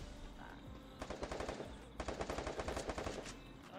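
Bursts of automatic gunfire in a Brazilian multiplayer shooter match, rapid rounds in two long strings separated by a short pause, loud and close with no talk over them.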